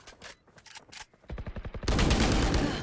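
Gunfire in the video game Valorant, a rapid string of evenly spaced shots followed by a louder, sustained burst, close and prominent with no talking over it.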